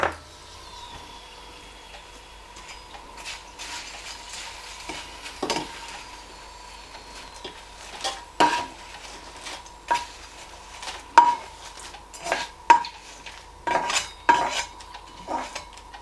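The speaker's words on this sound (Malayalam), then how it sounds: "ഇപ്പോൾ എല്ലാം ഒന്ന് വറുത്തെടുത്തിട്ടുണ്ട് ഇത് നമുക്കൊരു പാത്രത്തിലേക്ക് കോരിയെടുക്കാം" Fried ingredients are scooped out of a pan of coconut oil into a bowl, with a faint background sizzle and a series of clinking metal scrapes and knocks that grow louder and more frequent toward the end.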